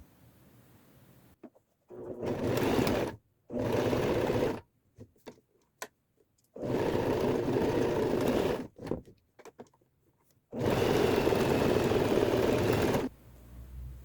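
A sewing machine stitches fabric in three long bursts of fast, steady whirring, with short pauses and small handling clicks between runs.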